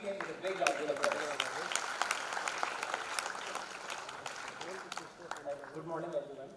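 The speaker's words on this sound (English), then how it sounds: "Let's greet him with a big round of applause." An audience at an alumni meet applauds to welcome a speaker, a dense sustained round of clapping that carries on evenly and starts to thin toward the end.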